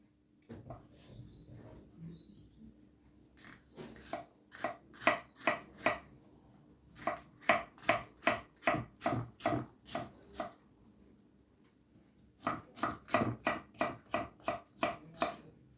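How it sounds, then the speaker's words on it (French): Peppers are chopped into small rounds with a knife on a cutting board, close, crisp rhythmic thuds in quick bursts of about a dozen strokes separated by pauses, with no voices. "On va le couper tous en petits rondelles."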